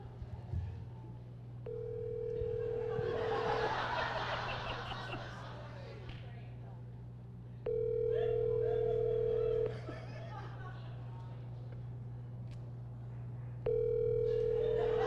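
A telephone call rings out on a line, the ringback tone sounding in long steady bursts separated by pauses, while people chat and laugh faintly in a convention panel room.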